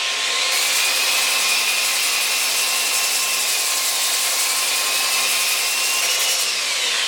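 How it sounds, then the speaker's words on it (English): A power sander works over wood with a continuous, loud, even grinding hiss that holds steady throughout, with no talking. "Definitely do some sanding with my power sanding setup."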